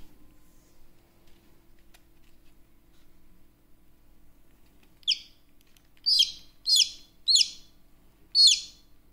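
A baby chick still stuck in its egg chirps in five short, high, sharp peeps, each one loud and clear against near silence after several quiet seconds, with a roughly even pause between the last few.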